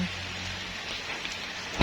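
Rain patters steadily on plants in front of a house, a dense, even hiss of drops with a sharper splash near the end.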